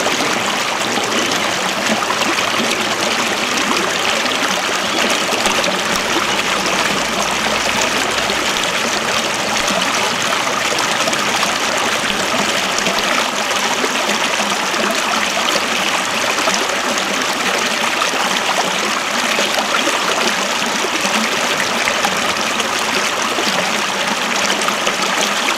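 Water rushing and trickling steadily as a Tamiya F-350 4x4 RC truck crosses a stream, a constant close wash of flowing water with no voices.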